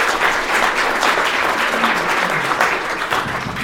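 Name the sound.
audience applause in a lounge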